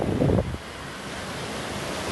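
Broad rushing sea surf on a rough day at a Bafra fishing spot, with steady wind noise buffeting the microphone, a louder swell at the start before settling into a constant wash.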